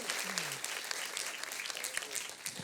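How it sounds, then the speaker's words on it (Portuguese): A church congregation breaks into joyful applause, a dense, continuous clapping that fills the room, with faint voices mixed in. "Você vai dar uma salva de palmas de alegria"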